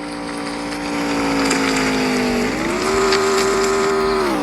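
A car races at very high speed in a Grand Theft Auto style video game, its engine a steady loud drone that dips briefly and then climbs back as it revs, with no talk over it.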